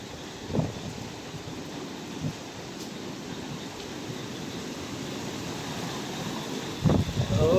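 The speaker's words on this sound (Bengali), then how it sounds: "ওরে বাতাস" Strong gusty wind roars steadily outdoors during a storm with blowing sand and scattered raindrops, a broad rushing noise buffeting the microphone, with a few louder gusts near the start and end.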